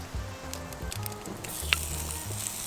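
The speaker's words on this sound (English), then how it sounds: "Hear that sizzle" Steady sizzling of a pork chop frying in a hot pan, a soft continuous crackle with a few brief pops, no talking.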